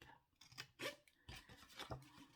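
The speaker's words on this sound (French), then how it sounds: "prenez vos ciseaux et vous allez couper" Scissors cut paper to make a small box. Several close, quiet snips and rasping strokes come in quick succession, with no talk.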